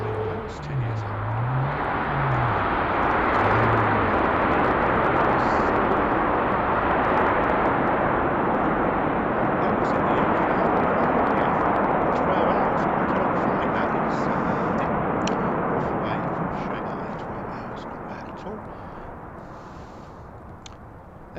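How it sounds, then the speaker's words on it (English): A 10-year-old China Eastern Airbus A330 from Shanghai arriving at Heathrow, a loud broad jet roar that holds steady and then gradually fades, with a voice talking briefly over the start. "You can see on the side it's a Airbus 330, and that one's coming all the way over from Shanghai."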